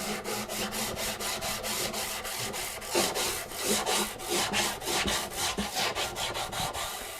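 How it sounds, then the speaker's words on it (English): Guitar frets are sanded lightly with 400 grit paper on a radius block, giving a rapid rhythmic series of rasping back-and-forth strokes, close and steady, with no talking. "So I come back and hit it very lightly with my 400 grit on my radius block."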